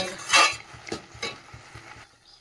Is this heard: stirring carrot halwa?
yes